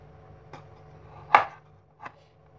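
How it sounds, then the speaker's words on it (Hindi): A kitchen knife roughly chops tomatoes on a board, giving three separate knocks spaced apart, the middle one sharpest and loudest, with quiet gaps between the cuts. "साथ ही मैं इसके एंड्स को यूं काट लेती हूँ, टमाटर्स के एंड्स को"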